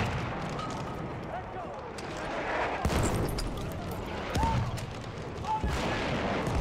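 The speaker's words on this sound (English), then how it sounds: "Wait for the enemy artillery barrage to stop firing." Artillery barrage in the Battlefield 1 video game, repeated booming blasts and rumbling impacts rolling through the scene, with a voice speaking briefly over the firing.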